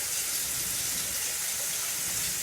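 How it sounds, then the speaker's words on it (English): A small splash of water poured into a pan of spicy curry on the stove, a steady soft hiss of running liquid lasting a couple of seconds with no talking. "Just like add like the tiniest bit of water"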